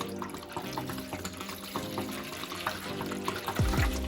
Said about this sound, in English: I'm going to fill our bowl back.